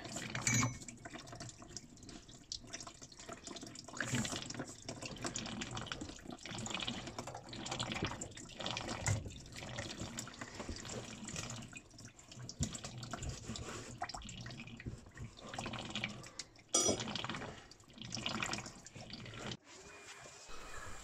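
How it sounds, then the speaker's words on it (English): Water drains steadily from the bottom valve of a heating system pump into a bucket during a pump change, a continuous close trickle and splash that runs the whole time. "dealing with the water coming out of the bottom valve"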